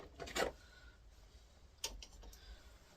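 Someone rummages through a Work Pro socket set at a workbench, producing a couple of sharp metallic clinks and rattles of sockets knocked together, close and quiet with pauses between.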